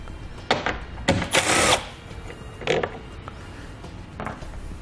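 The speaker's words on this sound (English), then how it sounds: "So we'll grab a 10mm socket and we're going to pull both of those out." Ratchet and 10mm socket loosening taillight bolts on a 2017 Subaru Outback, a few short bursts of clicking and metallic rattling spaced out, close and moderately loud.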